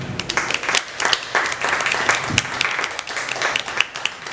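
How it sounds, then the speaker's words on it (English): Live audience applause for student comedy performers at a barrelhouse show, brisk dense clapping from a small crowd, close and lively throughout the short burst. "Give one more round of applause to my students tonight."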